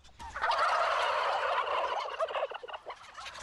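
Farm turkeys gobble together in a dense, loud, continuous chorus that trails off into scattered calls toward the end, with no talking.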